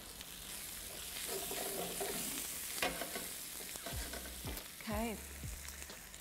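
Garlic frying in oil for chicken paella is stirred around the pan, a continuous close sizzle with scraping strokes and a few utensil knocks, no talk.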